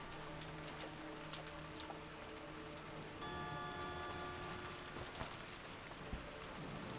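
Steady rain ambience from the video game Higanbana no Saku Yoru ni, a soft continuous patter under faint tonal music, with no talking.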